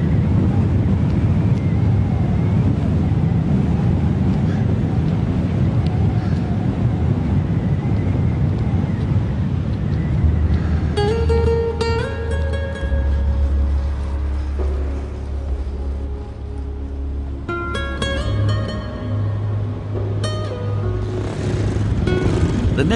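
Strong headwind buffets a cyclist crossing the desert, a loud steady low roar filling the whole stretch, with faint tonal sounds layered over the gusts in the second half.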